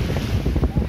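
Strong wind buffets the microphone on the freshwater beach of Lake Tota in Boyacá, Colombia, a continuous loud rumbling gusting noise.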